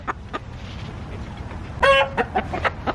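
Hens cluck in a backyard chicken flock, with a steady run of short, close clucks and a few louder calls over soft ambient noise.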